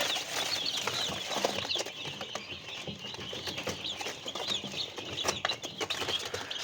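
German long-tail chicks and hens in a farm coop, with steady soft peeping and clucking alongside rustling and wing flutters, continuous and close throughout.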